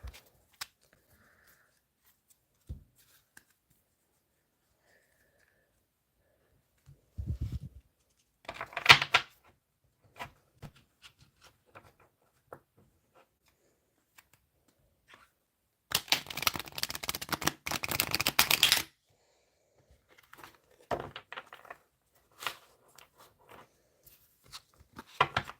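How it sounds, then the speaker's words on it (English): Tarot cards riffled and shuffled by hand in a quiet room: scattered soft taps, a short flurry, then a dense, crisp rustling burst of several seconds and a few final light clicks. "Okay, one more shuffle."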